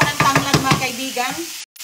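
Ripe yellow jackfruit stirred in a cooking pot, a run of close wet scraping and sloshing strokes that comes in regular pulses, then slows and fades to a brief silence at the end.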